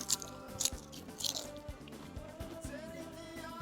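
Crunchy fried fish trimmings bitten and chewed close to the mouth, several sharp crisp crunches followed by softer steady chewing, no talk.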